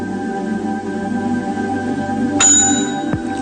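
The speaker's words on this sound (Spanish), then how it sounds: "Y finalmente, suena el otro detector de Henry." A detector rings with a bright bell-like tone in a physics animation about Lorentz transformation, sounding once over a steady background hum, followed by a brief sweeping blip.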